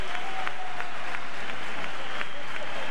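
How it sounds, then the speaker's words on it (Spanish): A stadium crowd at a Copa del Rey match between Alcorcón and Real Madrid applauds as the Real Madrid captain Raúl leaves the pitch, a steady distant wash of clapping with a commentator's voice over it. "aplausos para el capitán blanco"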